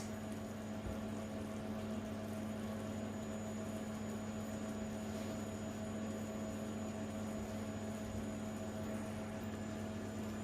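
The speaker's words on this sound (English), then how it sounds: "So let that boil for around 4 to 5 minutes on a medium to low heat." Butterscotch caramel sauce boiling in a pan on medium-low heat, a steady, faint bubbling hiss over a constant low hum, unbroken for the whole stretch with no voices.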